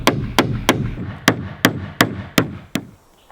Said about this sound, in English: I'm ready to nail off the flooring.